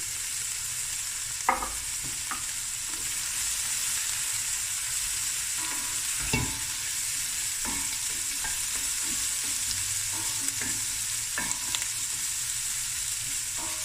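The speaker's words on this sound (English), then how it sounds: "in the pot I add about 2 to 3 tablespoons of olive oil. Here's a whopping tablespoon of crushed red chili" Crushed red chili fries in olive oil in a pot, a steady soft sizzle with occasional stirring clinks and scrapes, close and fairly quiet with no talking.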